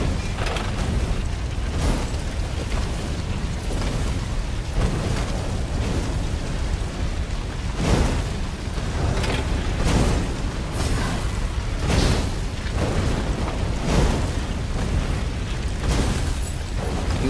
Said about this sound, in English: Renato hated cannon traps.